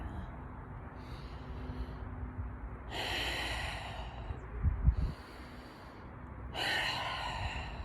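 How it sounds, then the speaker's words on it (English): Slow, deep breathing during a yoga exercise, with audible inhales and exhales in long airy waves, close and fairly soft over a low background hum. "Inhale. Exhale. Inhale. Exhale."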